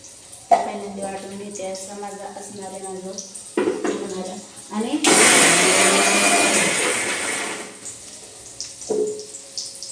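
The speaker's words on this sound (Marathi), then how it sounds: "कांदा ह्याच्यामध्ये नंतर ह्याच्यामध्ये जिरं कोथिंबीर हिरवी मिरची आणि लसूण ते पहिले मी वाटून घेते" A kitchen mixer grinder blends onion, cumin, coriander leaves, green chili and garlic in one loud, steady burst of a few seconds, preceded and followed by someone speaking nearby.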